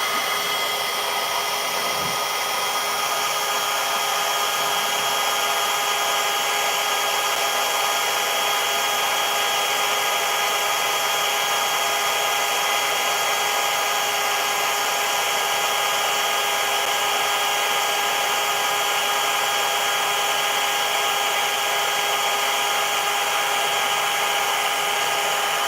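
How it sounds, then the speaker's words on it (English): A blow dryer runs steadily and close for the whole stretch, a loud constant whirring hiss with a fixed motor whine and no pauses or voices. "Blow dryer."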